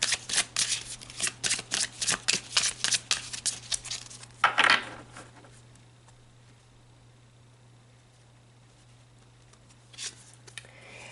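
Oracle cards being shuffled, a quick run of crisp riffling flicks that stops after about four seconds, then a quiet pause and a brief soft rustle as cards are drawn.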